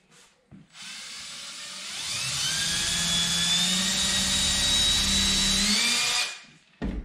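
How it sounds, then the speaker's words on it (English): A power drill boring a pilot hole in wood, a loud, close, steady whine that rises in pitch as it spins up, holds for several seconds, then stops, with small knocks before and after. "Drilled a pilot hole."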